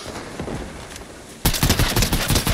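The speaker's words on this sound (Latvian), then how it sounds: "Es šauju." Fortnite gunfire in a match, a dull background of distant shots giving way at once to loud, close rapid bursts of automatic fire that continue to the end.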